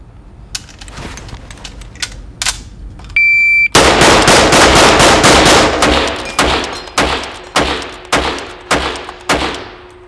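An M1 Garand semi-automatic rifle fired outdoors in a rapid string: a few isolated sharp reports, a brief electronic beep, then a quick succession of loud, echoing shots about every half second, all without speech.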